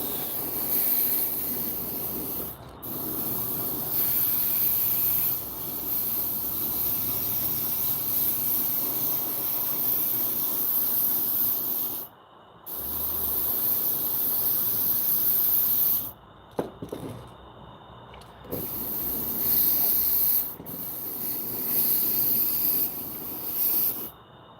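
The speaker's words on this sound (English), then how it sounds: "We're having some fun airbrushing some 5-inch topwater spooks." An airbrush hisses continuously while spraying a white base coat onto 5-inch topwater spook fishing lures, a steady close spray broken by a few short pauses.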